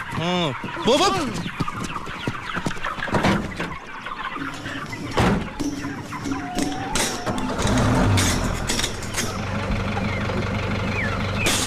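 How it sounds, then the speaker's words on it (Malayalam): Chickens carried in a vehicle cluck and squawk loudly and repeatedly, with sharp rising calls over a steady engine rumble, while someone speaks among the bird noise. "ഇതിൽ കോഴി അല്ലാതെ വേറെ ഒന്നുമില്ല സാർ"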